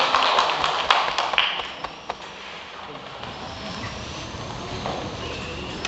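Applause from an audience at a year-end review class in a Buddhist hall, welcoming a teacher: dense clapping that is loudest at first and then fades into a quieter patter with room noise.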